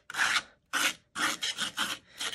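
Gritty patina paste being rubbed on a surface makes a series of short, rasping scrubbing strokes in an irregular rhythm, close and fairly loud, with brief silences between strokes and no talking.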